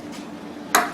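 A hose clamp squeezes tight onto a fuel hose on a Powerhorse 3500 generator, making two sharp metallic clicks close up in a quiet space, one just before the other.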